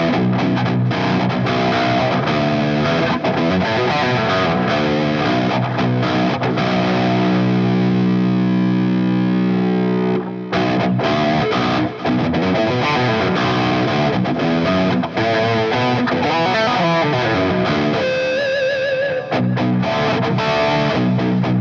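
A 7-string electric guitar plays through a Line 6 Poly Capo pitch-shift preset with delay and reverb. The distorted, dense chords sustain continuously and loudly, with a brief cut near the middle and no talking.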